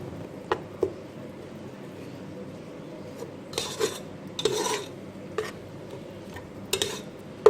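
Spoon scraping and clinking against a pan as sliced tomatoes and spices are stirred for tomato pulao, with scattered sharp taps over a low, steady sizzle; no voices.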